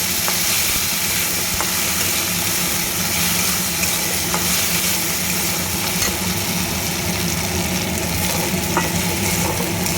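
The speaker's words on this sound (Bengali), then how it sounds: "মুগ ডালটা দিয়ে একটু ভাজা ভাজা করে নেব" Washed mung dal fries loudly in a pan for a quick vegetarian khichuri, a dense, continuous close-up sizzle and crackle that stays even throughout with faint stirring scrapes.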